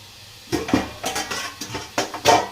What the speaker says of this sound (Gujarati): તો થોડી વાર ઢાંકી દેવાનું ને હવે આ રીતે ઢાંકીને હવે ચડવા દઈશું